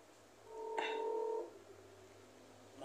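A short burst of telephone dialing tones, a single sustained dual-tone beep lasting under a second, sounds over a quiet room background while a call is placed to a friend.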